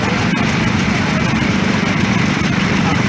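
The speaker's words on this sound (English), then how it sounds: "John Deere Model 110, 8 horsepower." A John Deere Model 110 garden tractor with an 8 horsepower engine runs steadily and close by at an old engine show parade, a continuous low engine drone with some crowd noise mixed in.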